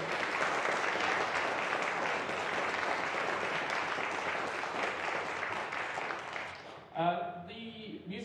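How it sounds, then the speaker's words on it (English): An audience at a museum concert gives a round of applause, dense even clapping for about seven seconds that cuts off abruptly, followed by a voice speaking. "let's give them a round of applause"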